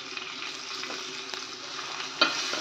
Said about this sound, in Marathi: हे बघा, तीळ टाकते आहे आणि शेंगदाणे दोन्ही टाकून घेते. हे पण चांगले खमंग भाजायला लागतील आपल्याला.